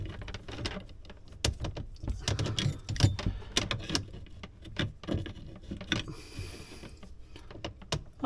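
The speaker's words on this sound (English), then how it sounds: "Give it a little snug. It's a compression fit-in." Snugging a plastic compression fitting on the cold-water line of a Waterdrop under-sink filtration system, heard as a series of close, irregular clicks, creaks and small mechanical ratcheting taps over about eight seconds, with no talk.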